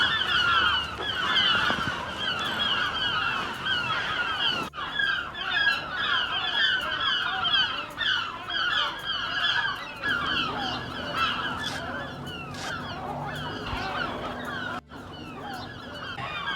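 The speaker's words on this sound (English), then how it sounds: "Boy, those seagulls." Seagulls squawk and cry loudly by the harbour in the narrow streets of Newlyn, with repeated overlapping calls close by and a steady chorus running throughout.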